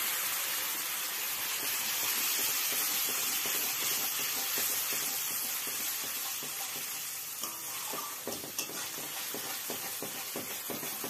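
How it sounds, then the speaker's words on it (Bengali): Hot boiled water poured into fried spice paste for a Bengali katla fish curry, a broad hissing, steaming sizzle that softens over time with a few clinks, close and fairly quiet, no voices. "ফুটিয়ে নেওয়া গরম জল আমি অল্প দিয়ে দিচ্ছি।"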